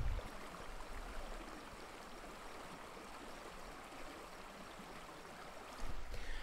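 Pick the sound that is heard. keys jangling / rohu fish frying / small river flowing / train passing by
small river flowing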